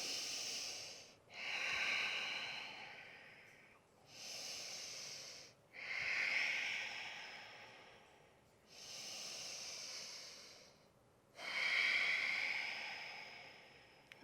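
During a yoga pose, slow, deep breaths come close and clear, three long airy inhale-exhale cycles with a soft hiss at each peak and short pauses between them.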